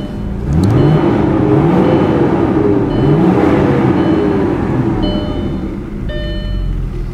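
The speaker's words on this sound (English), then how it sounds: "Give you a little rev." A 2000 Audi S4 B5 engine revs up and settles in smooth, rising and falling swells, loud and close, with a steady mid-pitched drone filling the whole stretch and no talking.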